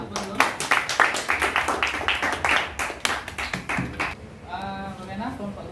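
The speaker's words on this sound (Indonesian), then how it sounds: "Berikan tepuk tangan untuk dulu" Classroom students clapping hands for a group during a Qur'an and Hadith lesson, a run of quick, fairly sharp claps in uneven rhythm for about four seconds, then fading out as a voice begins speaking.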